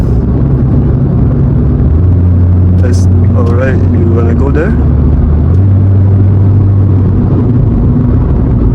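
Inside a 2016 Kia Rio sedan on a test drive, a steady low engine and road rumble fills the cabin throughout, with someone talking briefly over it.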